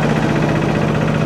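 An asphalt finishing machine on a test paving site idles with a steady, close, droning engine hum that never changes its even low rumble.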